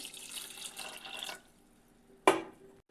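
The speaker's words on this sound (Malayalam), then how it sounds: "പിന്നെ വെള്ളം ഒഴിച്ചു കൊടുക്കാം" Water splashes into a pressure cooker holding chickpeas for about a second, then fades, followed by a single sharp clunk and brief quiet.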